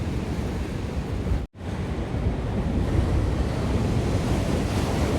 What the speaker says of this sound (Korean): 네, 이제 칠 겁니다 파도가.